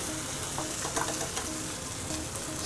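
Vegetables and snow peas hit a hot pan in a cooking-school kitchen, producing a dense, continuous sizzle with faint stirring noises, close and steady throughout, no speech.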